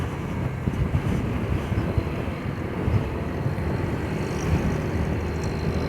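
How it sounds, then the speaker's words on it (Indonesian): Strong wind buffets the microphone on a mountain road between Sinjai, Malino and Makassar, producing a constant low, roaring rumble with uneven gusty surges and no talking. "Anginnya kenceng begini"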